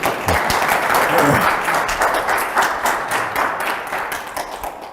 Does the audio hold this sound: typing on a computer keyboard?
no